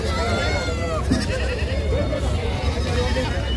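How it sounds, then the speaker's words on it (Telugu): Male goats bleat at a Friday goat and sheep market in Gudur, with wavering cries close by mixed into busy crowd chatter and someone speaking over them. "ఇవన్నీ మేకపోతులు"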